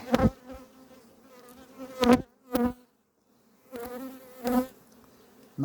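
Honey bees buzz around beehive frames at an apiary during a swarming-prone season, steady droning close by with several louder bursts as bees pass near, alone without talk.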